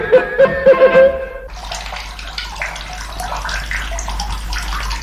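Water pours steadily into a bathtub, a continuous broadband rush that begins after a second and a half of brief tonal sounds and then holds at an even level.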